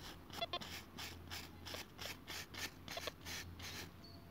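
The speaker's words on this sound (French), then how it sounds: "Je vais lui mettre un petit coup de brosse." A coin found while metal detecting is scrubbed with a small brush, giving close, repeated rasping strokes in a steady back-and-forth rhythm over a low background hum, with no talking.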